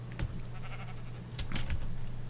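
A sheep in a modded video game bleats twice, a short call near the start and a louder one near the middle, over a steady low hum with no talk.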